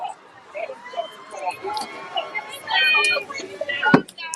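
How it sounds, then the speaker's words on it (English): Distant police sirens wail with rising and falling tones over street noise and scattered voices at a protest, growing a bit louder toward the end, with a sharp knock near the close. "Police sirens are going."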